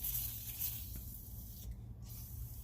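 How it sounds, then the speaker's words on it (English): A steady hiss of aerosol spraying close by onto a stuck, rusted brake rotor between the studs, with a low rumble underneath and a brief pause near the end. "Give a little more spray between the studs."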